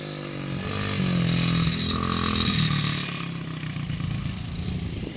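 A dirt bike engine runs at a steady, buzzing idle-to-mid rev, fairly close and loud throughout with a slight swell and fade, no voices over it.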